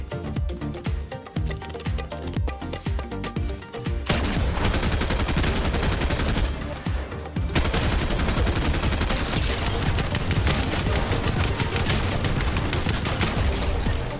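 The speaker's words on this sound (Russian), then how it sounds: "Когда стреляешь, стреляй одиночными выстрелами" Gunfire in the Fortnite video game: dense, continuous bursts of shots filling the clip, loud and close, with heavier sustained firing in the second half and no talk over it.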